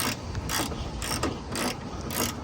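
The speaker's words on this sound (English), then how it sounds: "Go ahead and start tightening your bolts there." Ratchet tightening bolts on a 6-inch rear lift for a Jeep XJ, heard as five quick bursts of rapid close clicking in an even back-and-forth rhythm, loud and with no talking.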